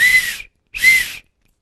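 Two short, shrill blasts of a whistle, each about half a second long with a breathy edge, separated by a brief silence.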